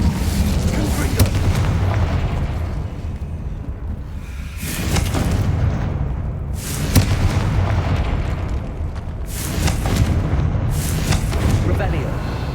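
Repeated explosive blasts from the Confringo blasting curse in a Harry Potter video game, three heavy booms spaced a few seconds apart over a dense, rumbling background of battle noise.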